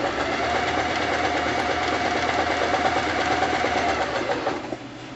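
A sewing machine stitches a sandbag in a fast, steady mechanical whir of needle strokes, loud and close, that runs almost the whole time and then slows and stops near the end, with no speech.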